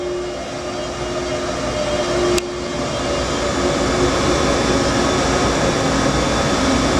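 Steady mechanical hum and whir of a Mitsubishi M25J CNC sinker-type EDM machine with its chiller running as its axes jog, loud and continuous, with one brief click partway through.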